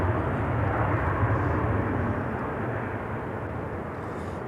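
A Southwest Boeing 737-700 arriving from Austin rolls out after touchdown, its engines a loud, steady broadband roar that holds strong throughout and eases slightly toward the end.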